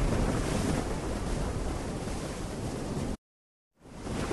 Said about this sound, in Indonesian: Dan Nabi Yunus pun meloncat ke laut yang mengganas karena badai.